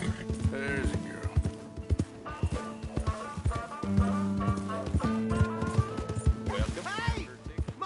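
Horse hooves clip-clopping in the Red Dead Redemption 2 video game, a steady rhythmic trot under game music, with a whinny and characters talking over it.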